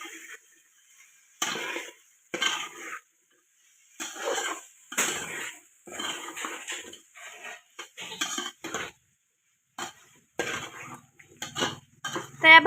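Spices are being stirred into vegetables in a pan, producing repeated close scraping and clinking of a metal spoon against the pan in irregular bursts separated by short pauses.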